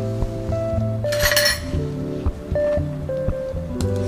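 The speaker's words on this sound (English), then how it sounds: "Stir to dissolve the powder." A spoon stirs dark chocolate powder and peppermint syrup into an espresso drink in an 8 oz paper cup, giving quick repeated clinks and scrapes close by.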